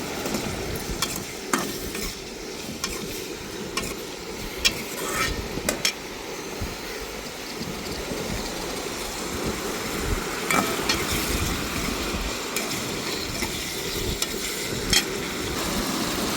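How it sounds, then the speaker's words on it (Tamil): Chillies sautéing for a dried fish dish cooked by the seashore, a continuous sizzle with repeated scraping clicks of a spoon stirring against the pan, close and steady with no talking. "இப்போ மிளகா சேர்த்துக்கிடுவோம் நல்லா வதங்கட்டுங்க"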